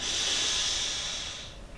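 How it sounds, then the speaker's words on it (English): A single deep, steady inhalation through the nose during a calming Pilates breathing exercise, close and fairly loud with an airy hiss that slowly tapers off near the end. "take a deep breath in through the nose"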